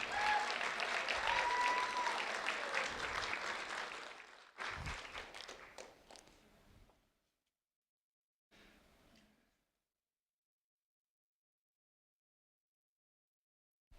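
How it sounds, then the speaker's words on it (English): Applause at a youth award ceremony, a burst of clapping from the audience that fades after a few seconds, followed by a brief second patter of claps and then silence. "A round of applause for Jonathan Gerhardt."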